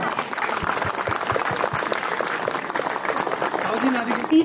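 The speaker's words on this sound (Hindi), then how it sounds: "जोरदार तालियों से स्वागत इस बालिका का" Audience applause welcoming a girl at a former teachers and students reunion of an inter college, a steady dense patter of many hands clapping throughout, with a voice speaking over it.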